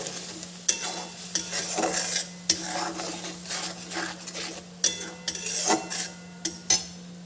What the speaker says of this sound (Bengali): এবার দিয়ে দেব লবণ আর দিয়ে দেব হলুদ দিয়ে বেশ ভালো করে এবার কষিয়ে নেব